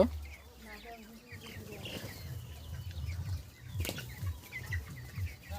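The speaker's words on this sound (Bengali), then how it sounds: "আজকে আমি ঘরেতে মুরগি কেমনই রয়েছে আপনারা দেখতেই পাচ্ছ চারিদিকে ছড়িয়ে ছিটিয়ে কত সুন্দরভাবে রয়েছে" Broiler chickens cluck and call in a straw-bedded shed, scattered soft clucks and short cries over low farm background, with a voice faintly present.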